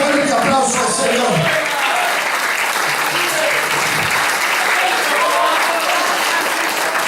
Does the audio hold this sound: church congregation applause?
yes